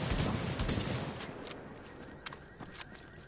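Light machine gun fire in Tom Clancy's The Division Dark Zone, a dense noisy burst of rapid shots up front that thins into scattered, quieter cracks and clicks.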